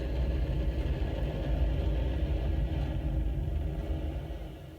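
A hydrogen-oxygen rocket engine roars as a deep, continuous low rumble, loud and steady before easing slightly at the end, with no voices.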